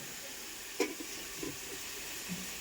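Onions frying in a pan for egg curry give a soft, steady sizzle and hiss, with a few faint clinks of stirring over the continuous background.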